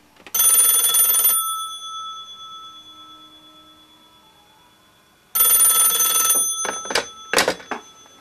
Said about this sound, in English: Here's a test of the ringer now